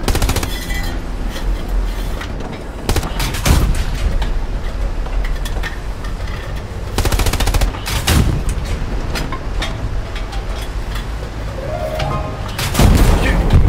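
Rapid bursts of gunfire ring out, loud and close, with repeated volleys and heavier booms over a continuous noisy battle din.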